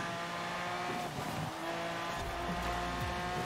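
Forza Horizon 4 car losing control and crashing into a mountainside, with loud engine roar, squealing tires and skidding, followed by a low rumbling impact.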